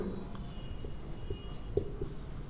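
Writing on a board during a Hindi chemistry lesson, with soft, irregular scratching strokes over a steady low background hum.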